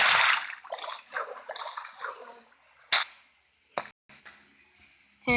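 In Minecraft, a splash of jumping into water opens the moment loudly, followed by softer sloshing that fades out, then a few sharp isolated game sounds.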